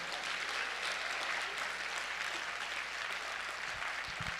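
A church congregation applauds in a continuous, even wash of clapping that stays faint and distant for the whole stretch, with a few low thumps near the end.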